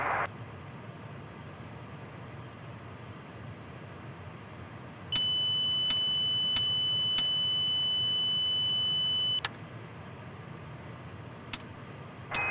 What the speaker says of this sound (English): Stand by for mass alarm.